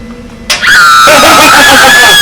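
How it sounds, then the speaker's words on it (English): A short, high-pitched scream rings out loud and sustained from a shower as the hot water is turned off, rising sharply after a quieter start and holding for about two seconds. "If you listen, you can hear the little scream."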